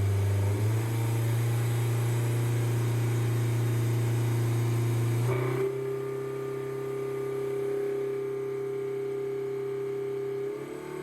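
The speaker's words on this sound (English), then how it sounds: "the tuner was basically stepping up the engine speed from idle to the 8400 RPM" Honda S2000 engine held at steady speeds while being tuned, stepping up from idle toward its 8400 RPM redline in 500 RPM increments; a loud, sustained drone that jumps in pitch and holds, close and alone.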